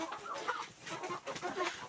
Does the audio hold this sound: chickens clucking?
yes